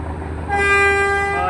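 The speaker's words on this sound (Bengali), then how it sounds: "ঢাকা বরিশাল জালালবাতি সুন্দরবন 12 লঞ্চটি ছেড়ে যাচ্ছে।" Sundarban 12 passenger launch on the Dhaka–Barishal river route sounding a loud, steady horn blast that begins partway in and holds to the end, over a low engine hum.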